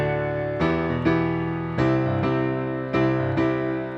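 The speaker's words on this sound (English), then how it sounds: "Are you tired of playing boring, repetitive sounding left-hand bass lines when you're playing pop tunes?" A pop piano left-hand bass line plays plain repeated sustained chords, changing every half second or so in a steady, plodding pattern, heard alone and clearly with no voices.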